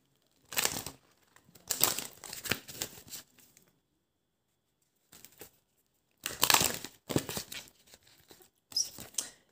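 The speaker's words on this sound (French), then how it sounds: "je vais tirer une petite carte ici des anges de l'amour pour clôturer et la petite carte conseil" An oracle card deck being shuffled and a card drawn, heard as several short bursts of riffling, crisp card rustling separated by brief silences, close and alone.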